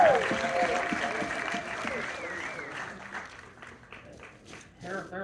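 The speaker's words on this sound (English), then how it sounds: "Give a big round of applause for Duane Michaels." Audience applause fills a documentary Q&A screening for the LAUSD musical instrument repair shop, steady clapping with voices and a few whoops over it, then thinning out as the clapping fades.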